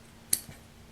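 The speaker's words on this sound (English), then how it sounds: "I'm going to need to cut it a little bit. So then I'm going to go get scissors" Two quick, faint snips of scissors trimming towel fabric for a beach bag handle, close by in a quiet room.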